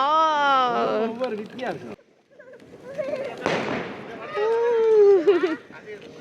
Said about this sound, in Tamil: எங்கே போகுது வெடி